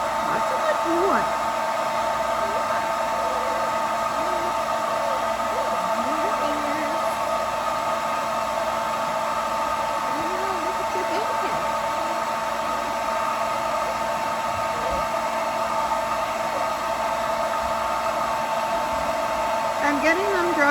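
A hair dryer blows steadily and loudly for the whole clip while drying freshly bathed puppies, its constant whir unbroken, with faint rustles and brief squeaks underneath.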